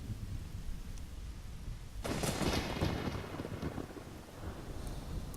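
Thunder from a stormy cutscene in Ocarina of Time rumbles over steady rain, swelling into a louder crash partway through before easing back, with no talk.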